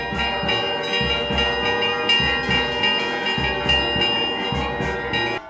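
Church bells ring loudly and continuously, their overlapping metallic tones and long resonant ringing filling the air in a steady pealing rhythm, with no voices heard.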